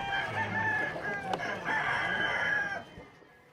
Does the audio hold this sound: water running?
no